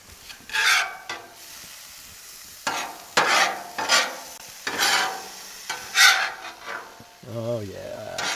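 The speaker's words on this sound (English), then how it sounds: "I'm going to go ahead and mix it in with the sauerkraut" Thousand Island dressing being mixed into drained sauerkraut on a Blackstone griddle: repeated bursts of scraping and wet stirring against the hot flat-top, separated by short pauses, with a brief tonal sound near the end.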